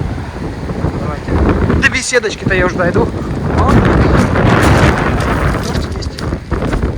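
Wind gusts buffet the microphone on the Black Sea shore at Lazarevskoye during winter rain, with rough waves crashing in a continuous loud roar while someone talks briefly over it.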